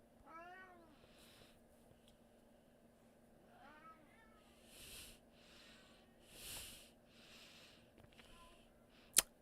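A pet cat meows loudly and repeatedly, three rising-falling calls close by, with soft rustling and a sharp click at the end.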